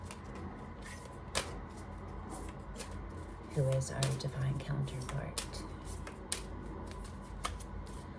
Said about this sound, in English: So these were hard to shuffle before.